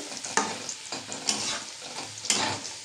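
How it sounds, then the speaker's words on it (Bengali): Pointed gourd and jackfruit seeds stirred in a pan, a few distinct spatula scrapes about once a second over a soft, close sizzle, with no voices. "আর এবার একটু নেড়ে দিতে হবে, যেহেতু জলটা টেনে গেছে"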